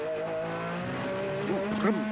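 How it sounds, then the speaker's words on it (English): GT race cars from the 2001 FIA GT Championship running in heavy traffic on track, engines droning and shifting pitch as cars pass, with a rising rev near the end and a commentator's voice underneath. "And now in heavy traffic, Mike Hasemans, the race leader"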